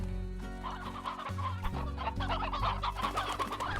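Chickens in the video game Slime Rancher cluck busily over a loud game music loop, several birds overlapping in quick, choppy bursts.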